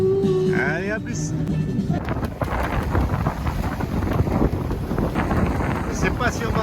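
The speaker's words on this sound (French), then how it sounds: "Je sais pas si on m'entend là avec le vent, ça tabasse bien." Strong coastal wind buffets the microphone at Porto Polo, Corsica, a loud, continuous broadband rumble that starts after a brief moment of speech and fills the rest of the clip.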